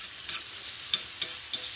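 Soft, muffled sizzling of onions frying in a covered pan, with a few faint clicks and taps over the low crackle.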